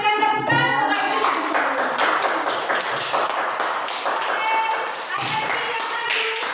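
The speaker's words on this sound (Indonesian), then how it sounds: "berikan tepuk tangan untuk Arjuna" A classroom of students claps for a student in an Indonesian lesson, a burst of many hands tapping and clapping together close by, continuous for several seconds with scattered louder claps.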